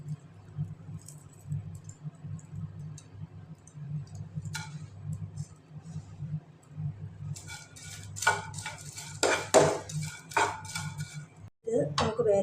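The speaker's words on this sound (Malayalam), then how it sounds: "ഇത് നമുക്ക് വേറൊരു പാത്രത്തിലേക്ക് ഇടാം കേട്ടോ." Crispy fried dried shrimp being moved from the frying pan into another dish in a home kitchen: a low steady hum with scattered clinks, then a burst of louder metallic clatter and scraping toward the end.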